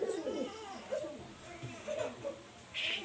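Fancy pigeons, teddy and golden types kept in a loft, give soft, low coos in short bursts, quiet and close, with faint voices around them.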